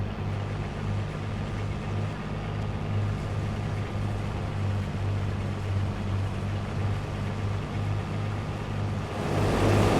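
A combine harvester's engine in Farming Simulator 22 hums steadily at around 1800 rpm, a low droning rumble that holds even throughout and grows slightly louder near the end, with no talk over it.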